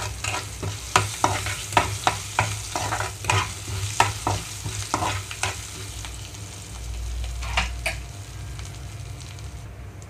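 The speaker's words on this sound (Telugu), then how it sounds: "తాలింపు వేగిపోయిన తర్వాత స్టవ్ ఆఫ్ చేస్తున్నానండి" Lentils, dry red chillies and curry leaves fry in a tempering for amaranth chutney, with a soft continuous sizzle broken by a series of sharp, regular spoon scrapes and clinks against the pan, close and moderately loud.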